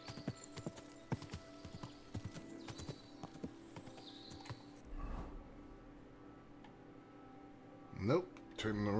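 Horse hooves clip-clop in the video game Kingdom Come Deliverance 2, a steady run of close, crisp hoofbeats that stops partway, leaving quieter game ambience and a brief voice toward the end.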